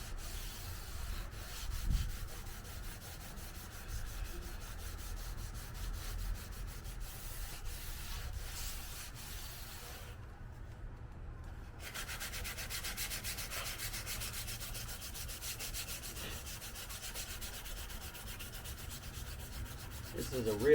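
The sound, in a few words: sanding a plastic car part with light grit sandpaper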